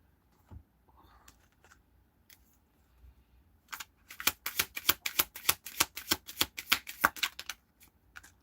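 Tarot cards shuffled by hand, a few faint handling sounds first, then a rapid close run of crisp riffling flutters that trails off into occasional taps, no voices.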